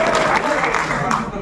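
An audience at a mushaira poetry gathering claps in a brief, dense burst of applause that stays steady at moderate volume.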